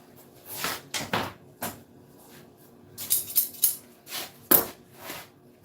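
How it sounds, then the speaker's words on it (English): Dull scissors snip through fabric for a custom Toyota 4Runner tire cover, a series of close, crisp cutting crunches in irregular bursts separated by brief pauses, with no voices. "My scissors is a little bit dull."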